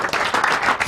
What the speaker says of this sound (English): you give him a bigger round of applause